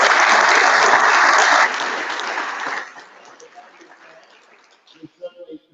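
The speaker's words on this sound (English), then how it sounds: "please give our panellists another round of applause" An audience at a Grow Qld community forum in Beaudesert applauds its panellists with loud, dense clapping for under three seconds, which quickly thins to scattered claps and then fades into near silence with faint murmurs.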